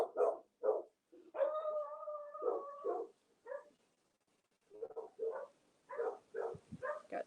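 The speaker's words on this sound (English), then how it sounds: "the dog is barking" A dog barks in short bursts nearby, mixing sharp barks with a drawn-out, howl-like whine, then pauses briefly before another run of quick barks.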